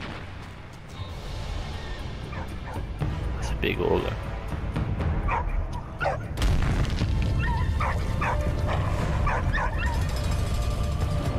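A dog in the video game Valiant Hearts barks and whimpers through several short yips and whines over a low rumbling backdrop. A person speaks briefly over the sounds.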